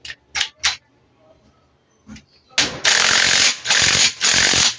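A clutch nut on an NS150 motorcycle being tightened, a few sharp clicks at first, then long loud bursts of rapid ratcheting or impact-tool rattle, close and harsh.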